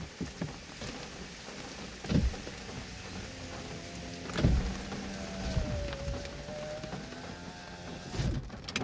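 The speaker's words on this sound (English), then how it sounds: "The rain is coming." Steady rain patters on a surface throughout, a close, even hiss with a few louder bumps and knocks, and a window glass being raised is briefly audible near the middle.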